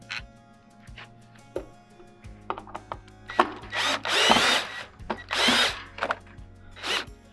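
A power drill drives screws into a wooden DIY gate outdoors, with several loud close whirring bursts of rising and falling pitch separated by short pauses and small clicks.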